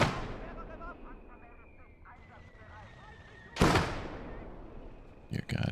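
Cluster munitions exploding in a WW2 real-time strategy game: a rolling booming blast with a long crackling tail, then a second sharp loud burst followed by quick staccato pops.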